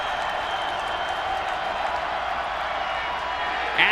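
Stadium crowd at an Air Force at Wyoming college football game roaring steadily on a third down, a dense sustained wash of cheering with a play-by-play voice over it.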